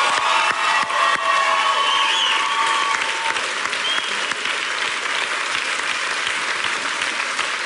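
A TV singing talent show audience breaks into loud, continuous applause with some cheering, a thick, sustained roar of clapping throughout.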